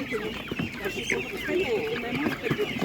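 Chickens offered at a market stall keep up a dense, restless clucking, with scattered sharper calls rising from the nearby flock.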